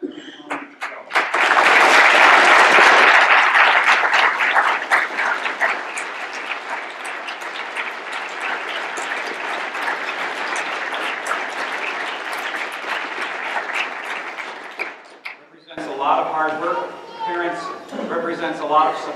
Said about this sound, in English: I would like the people on stage to applaud your music teachers